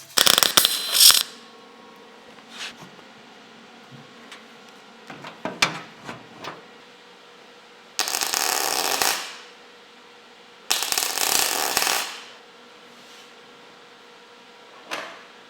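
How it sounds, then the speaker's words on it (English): Stitch welds laid on a rusty boot lid from an Alfa Romeo GTV, heard as several separate bursts of harsh crackling, each lasting about a second, with quiet gaps and a few small clicks between them. "I'm going to clean up the metal around the original welds and try my best to run a weld between the two parts"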